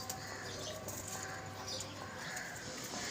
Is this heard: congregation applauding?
no